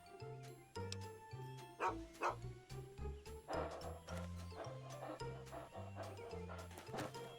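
A dog in the video game Fallout 3 barks repeatedly in short bursts over a looping game music bed, with the barks close and loud against the steady tones.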